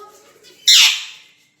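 A pet myna bird lets out one loud, harsh squawk close by, a sudden rasping burst that fades out over about half a second after a quiet stretch.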